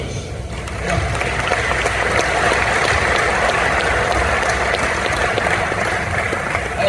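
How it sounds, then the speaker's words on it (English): A large crowd at an affiliate marketing summit applauds, a loud, dense wash of clapping that holds steady for several seconds with voices mixed in. "Come on, clap yourselves."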